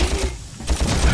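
Rapid fire from a blaster in Ratchet & Clank, loud, quick bursts of shots in a fast, stuttering rhythm over steady game background noise.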